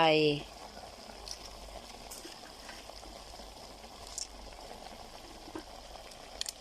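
Snails stir-frying in a pan with garlic, lemongrass and kaffir lime leaves for a Thai snail stew. A soft, steady bubbling sizzle runs throughout after a brief tonal sound at the very start.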